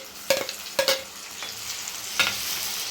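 Onions fry in a pan for palak paneer with a soft, steady sizzle while a spoon scrapes and stirs in a few distinct sharp strokes.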